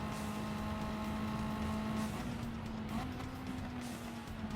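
A car accelerating hard on a race track, engine note held high and steady with a sustained whine that rises slightly, close and loud with no talking.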